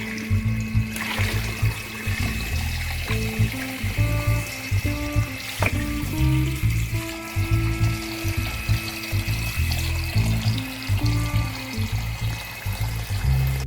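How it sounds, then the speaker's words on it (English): Running water over lamb meat being rinsed for biryani in a kitchen, a steady close splashing wash with irregular knocks and handling sounds throughout, no talking. "just washing the meat now."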